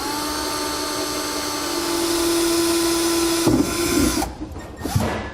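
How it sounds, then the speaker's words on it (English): A power drill with a small 1/8 inch bit bores a pilot hole in the center of a fifth wheel rail on a 2018 GMC Sierra 2500, a steady whine that strains and then cuts off, heard close with no talking. "I'm going to take a small drill bit, 1/8 inch drill bit works, and we're going to drill out right in the center of that."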